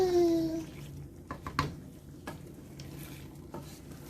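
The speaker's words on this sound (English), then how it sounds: "Okay, so just going to stir it gently." An egg and vegetable stew is stirred slowly in a pot, with soft scraping and a few light utensil knocks against the pot over a low bubbling simmer.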